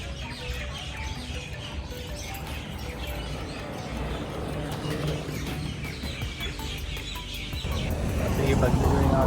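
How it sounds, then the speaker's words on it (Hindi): Birds, including chicken-like clucking calls, sound outdoors on a street in Doha, Qatar, mixed with steady traffic and ambient noise that grows louder toward the end, with voices in the background. "चिड़ियाँ कैसे बोल रही हैं,"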